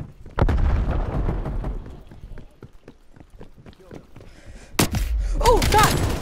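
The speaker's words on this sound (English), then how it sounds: "Oh, grenade." Call of Duty Cold War gameplay with a sharp grenade blast near the start and another loud burst later, amid scattered footsteps and gunfire clatter, with voices talking over the action.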